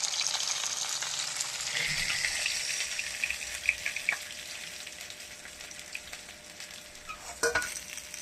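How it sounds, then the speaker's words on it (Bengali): Bhola fish fry in hot oil, a steady close sizzle with occasional stirring and clinks of a utensil against the pan. "কড়া করে পোয়া ভোলা মাছ ভেজে নিচ্ছি ভোলা।"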